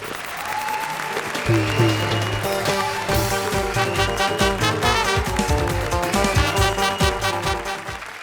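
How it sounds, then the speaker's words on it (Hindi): Studio audience on a comedy show breaks into loud, sustained applause that fills the room, steady and dense from start to finish, with music playing underneath. "बजा ताली।"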